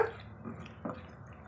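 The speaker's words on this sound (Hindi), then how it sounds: "अब भूनते हुए थोड़ा सा हम पानी डालेंगे।" Water splashed into spiced masala frying in a pan for restaurant-style moong dal tadka, giving a couple of short, soft wet splatters and sizzles close up, with no talking.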